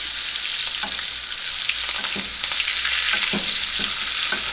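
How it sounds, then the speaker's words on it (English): A New York strip steak sizzles steadily in a pan as its hot liquid is spooned or tilted over it, a constant bright frying hiss with scattered soft scrapes and spatters throughout, no voices. "Now I'm just gently going to tilt this pan and use this liquid to really coat that steak"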